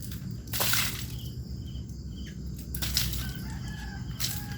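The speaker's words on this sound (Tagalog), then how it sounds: "May dalawa pong ibon, bumabati sa akin" A rooster crows near a house, loud bursts standing out over steady outdoor background noise, with a couple of separate calls and some wing flapping.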